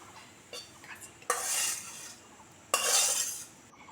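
Fried potatoes and eggs being moved from a pan into a bowl, heard as a few metal spatula clinks followed by two louder scraping swishes, close and without talk.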